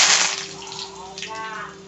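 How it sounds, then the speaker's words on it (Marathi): Cumin and mustard seeds crackle and spit in hot oil in a pan, a close, bright sputtering hiss with sharp pops, over a faint steady hum. "हे पहा, जिरी मोहरी छान तडतडलेली आहे."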